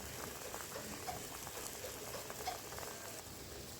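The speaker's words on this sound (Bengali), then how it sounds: "ঝোলটি ফুটে এসছে" A sweet-and-sour prawn curry broth simmers in a pan, making quiet, steady bubbling and soft patter heard up close with no talking.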